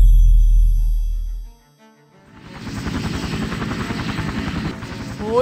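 Helicopter arriving as a sound effect in a police-themed teaser, a low rumble fading to a brief lull before rapid rotor blade chopping builds and holds steady and loud.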